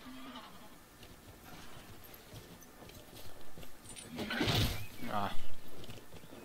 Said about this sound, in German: Ich glaube, ich rufe erstmal das Pferd.